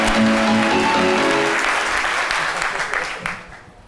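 A TV studio audience breaks into loud applause that fades out over a few seconds, with music and a voice under the clapping.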